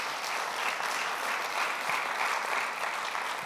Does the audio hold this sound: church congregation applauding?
yes